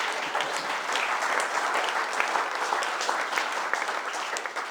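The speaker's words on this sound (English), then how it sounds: "Yeah, round of applause." Wedding guests applauding during the speeches, a steady, dense wash of clapping from a room-sized crowd, moderately near and even throughout with no voices on top.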